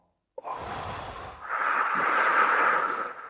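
A slow, deliberate breath drawn in and released during a calming breathing exercise, close and fairly loud, with a soft inhale followed by a longer, stronger airy exhale and no talking.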